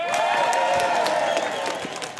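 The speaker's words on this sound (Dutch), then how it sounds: "applaus dus van de demonstranten, van Vaner, van de medische staf" Outdoors at a hospital in Dokkum, demonstrators and medical staff applaud and cheer, brisk clapping mixed with crowd voices and whoops, close and fairly loud, fading slightly toward the end.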